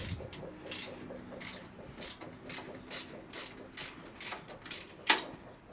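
A ratchet with a 10 mm socket clicks in a fast, steady pawl rhythm while loosening motorcycle exhaust bolts, close and fairly quiet, ending in one sharp metallic clack near the end.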